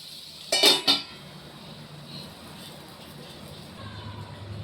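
A metal lid set down onto a cooking pan of frying pumpkin makes two quick clanks close by, followed by a quiet sizzle and faint kitchen background.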